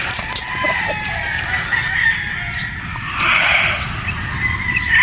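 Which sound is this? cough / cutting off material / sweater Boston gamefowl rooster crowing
sweater Boston gamefowl rooster crowing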